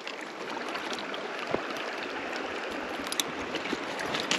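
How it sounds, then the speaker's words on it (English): Steady rushing water flowing off a dam into a trout stream, a dense continuous wash close by with a few faint clicks, no talk. "Plenty of water flow coming off of this dam."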